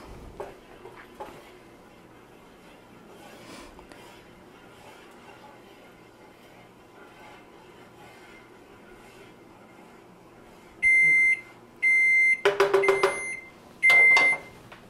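A kitchen oven gives several loud, clear electronic beeps in quick succession as it is switched off, following a long stretch of quiet room hum and faint talk.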